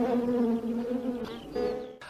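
Honeybees buzz steadily and close by, a continuous droning hum with shifting pitch, no voices present.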